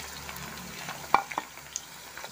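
Boiled potatoes are stirred into onions frying in a pan, giving a steady soft sizzle under a few sharp spoon scrapes and clinks, close up.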